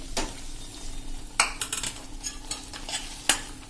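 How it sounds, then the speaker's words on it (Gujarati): Bajra roti ladoo mixture being stirred in a pan after the heat is off, with soft scraping and a few sharp clinks of the spoon against metal, close and moderately quiet, no talking. "અને હવે એને આપણે સરસ હલાવી લેશું."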